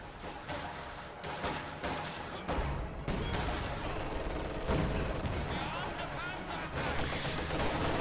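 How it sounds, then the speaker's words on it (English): Battle noise from a World War II strategy game, with an ML-20 howitzer firing amid bursts of small-arms and machine-gun fire. The heavy booms and rattling shots come in an irregular, dense sequence under a commentator's voice. "now the ML20 fires"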